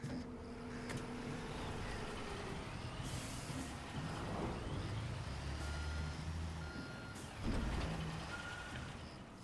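Reversing beeps from a construction vehicle in the Construction Simulator video game, a steady repeating tone over engine rumble, with air-brake hisses and other truck noise in the background.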